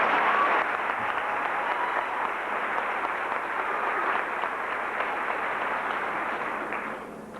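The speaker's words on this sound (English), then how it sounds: "May we have a round of applause for all 8." A 1988 junior high graduation audience gives steady, dense applause that fills a large hall at an even level, then tapers slightly at the end.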